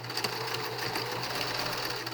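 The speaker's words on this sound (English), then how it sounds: "I'm going to stitch across that top in a zigzag this time" A sewing machine runs steadily, stitching a zigzag seam across the top of a fabric face mask, a continuous close mechanical whir with fast needle rhythm and no pauses.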